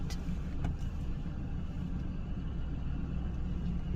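Stick-shift Chevrolet Silverado pickup truck rumbles steadily at low revs while reversing and pulling away, a close, continuous engine drone with no talk.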